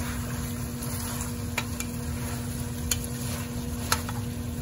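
Pork adobo frying in a pan, a steady close sizzle with soft stirring and occasional sharp ticks and pops, alone without talk.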